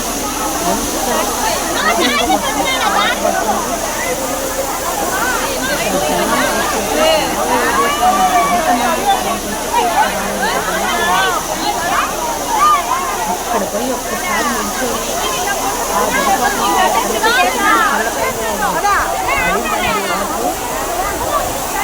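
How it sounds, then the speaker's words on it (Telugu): A waterfall at Kapila Theertham, Tirupati, roars steadily throughout, with a crowd of voices chattering and talking over it. "జలపాతం చూడండి"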